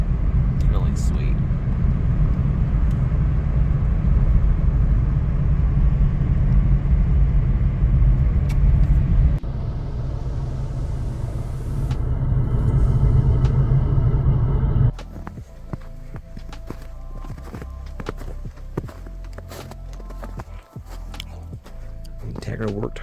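A 2023 Acura Integra on snow tires drives through winter conditions, its engine and tires keeping up a loud continuous rumble that shifts midway and then drops off to quieter sounds, with a voice talking throughout.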